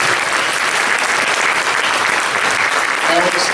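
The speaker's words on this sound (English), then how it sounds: "So, round of applause for our Pennwood faculty and staff." Loud, continuous audience applause at a school winter concert, the crowd clapping for the school's faculty and staff in a thick, unbroken wash of sound.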